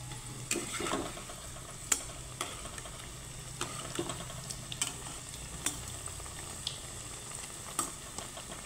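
Chana dal and wheat flour dough sizzles and bubbles steadily in hot oil, with occasional sharp pops and crackles spaced irregularly throughout.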